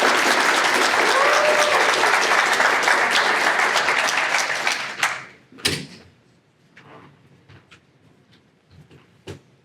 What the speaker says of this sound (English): Please join me in giving him a very warm Spartan round of applause and welcome.